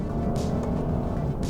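A 2015 Lexus RC 350 AWD F Sport with a torque-converter automatic climbing a hill, its engine drone steady and loud throughout with no clear shift break, heard from inside the car.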